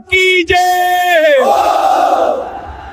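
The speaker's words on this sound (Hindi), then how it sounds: "भीड़ ने उसे घेर लिया, गुस्से से चीखने लगे।" An angry crowd shouts together in a long sustained roar, starting with a loud unified cry that breaks into a rougher mass of voices and slowly fades.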